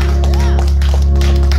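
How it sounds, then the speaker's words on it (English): Church congregation clapping in praise during a Sunday morning service, rhythmic hand claps layered over a steady organ or keyboard drone and a voice, continuous and fairly loud. "Give God a hand clap of praise."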